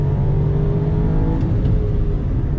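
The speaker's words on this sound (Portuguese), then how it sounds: "Eu vou dar uma afundada de pé aqui para vocês entenderem mais ou menos como seria aí uma retomada de velocidade" A Nissan Versa's engine revs hard under full throttle in second gear, a loud, steady, close-up drone with rising whine and no voices.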